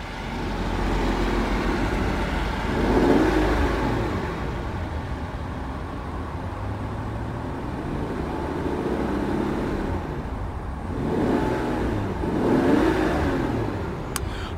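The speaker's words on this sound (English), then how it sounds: "It is a very smooth engine." A 2022 Rolls-Royce Cullinan SUV engine gives a smooth, steady hum throughout at low volume, with gentle swells in revs around a few points and no voices.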